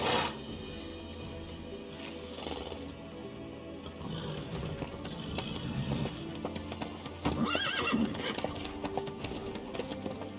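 A horse in The Witcher 3 video game makes rhythmic hoofbeats throughout and gives a clear whinnying neigh toward the end, with in-game character dialogue mixed in.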